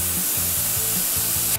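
Airbrush spraying tattoo ink through a stencil, a steady close hiss with a faint underlying motor hum, continuous and unbroken throughout.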